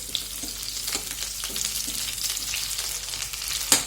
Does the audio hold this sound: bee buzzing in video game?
no